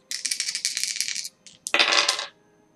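A pair of dice is rolled, clattering and rattling sharply across a hard surface in two close bursts of tumbling clicks.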